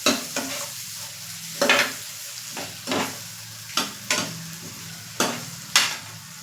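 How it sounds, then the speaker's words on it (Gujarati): Dal with tomato is stirred in a pot, with a spoon scraping in regular, fairly loud strokes about once a second over a soft sizzle underneath. "ટામેટું તમે તમારી પસંદ મુજબ એડ કરી શકો છો અને બધું છે તે બરાબર ફરીથી મિક્સ કરી લેશું"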